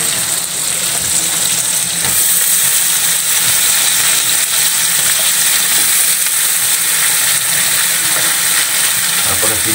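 Vegetables sautéing for ginisang gulay in a home kitchen pan, a steady loud sizzle and hiss of frying throughout with occasional stirring scrapes and no talking.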